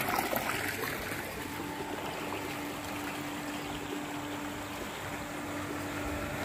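Bore well water gushes steadily from a motor pump outlet, a continuous rushing flow heard close by with a faint steady mechanical hum beneath and no talk.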